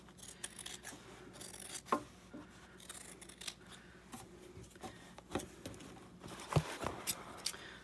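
Pair of scissors drawn through a small handheld sharpener, giving quiet, scattered rasping strokes and short scrapes spread irregularly across the clip, close and faint.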